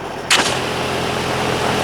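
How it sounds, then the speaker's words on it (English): Kubota diesel engine on a cold water trailer jetter pump idling steadily, a close, constant mechanical drone with a brief louder burst near the start. "Look at that pump, it's just idling."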